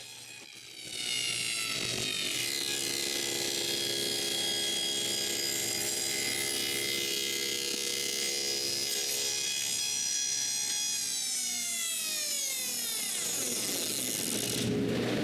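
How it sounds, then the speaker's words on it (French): A power saw blade cuts a deep groove into a wooden drawer front, a loud sustained whine that holds steady for the whole pass, then falls away and rises again briefly at the finish. "je coupe une autre rainure profonde"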